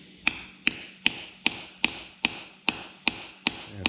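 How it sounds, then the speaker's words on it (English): A hammer strikes a socket on a concrete floor about ten times in a steady, even rhythm, each blow sharp with a brief metallic ring. "when I hit this with the hammer"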